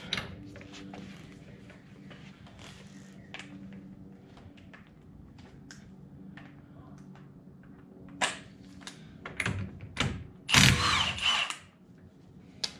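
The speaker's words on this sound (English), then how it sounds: "So next, we're gonna take the axle nut off." Work on the axle nut of a Honda Pioneer SATV front end: scattered metallic clicks and taps in a quiet shop, then a few louder rattling tool bursts near the end.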